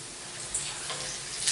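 Potato latkes searing in a pan of hot oil, a brief steady sizzle with a few crackling spits, close and fairly quiet, no speech.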